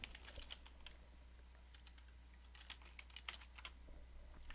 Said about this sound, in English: So if I go into here, I can type in Ken's email address